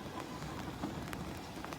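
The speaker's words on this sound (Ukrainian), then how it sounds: "дощ починає такий сипати і нехилий" Steady rain patters down on hard surfaces, a dense continuous hiss with occasional sharper drips, fairly close and without voices.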